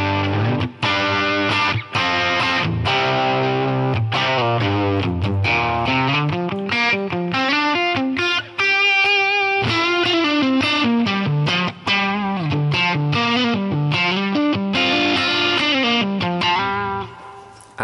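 A continuous distorted electric guitar through a Helix Mesa Boogie Mark IV amp model with high treble, heavy saturated gain, sustained chords and melodic runs ringing loudly without pause, no voices.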